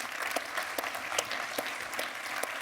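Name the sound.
audience applause welcoming a speaker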